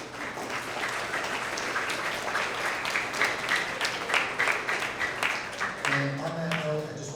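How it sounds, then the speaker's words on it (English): Audience giving a round of applause, a steady wash of many hands clapping at moderate distance, with a voice starting to speak as it fades. "Let's please give them a big round of applause"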